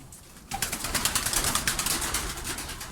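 A group of Çorum Çıplağı pigeons beat their wings, starting abruptly after a quiet moment into a dense, rapid flutter of flapping that stays close and steady to the end.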